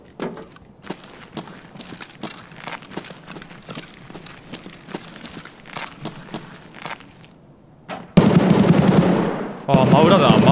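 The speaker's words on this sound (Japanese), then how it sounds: "真裏でめっちゃ銃声してるわ。" Rapid video game gunfire in Escape from Tarkov crackles steadily in bursts, a little distant at first, then swells into a loud, dense barrage of close shots near the end.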